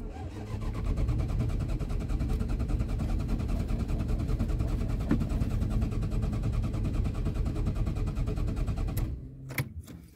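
After refuelling with gasoline, a car engine runs with a steady, rhythmic chugging idle up close for about nine seconds, then cuts out abruptly.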